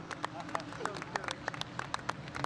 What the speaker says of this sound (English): You can hear the applause from the rest of the team.